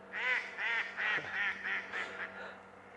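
Ducks quacking in a rapid series of raspy, laughing bursts, close and fairly loud with no talk over them, trailing off toward the end.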